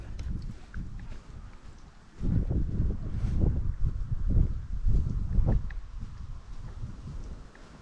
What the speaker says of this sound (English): Hope the wind isn't too loud.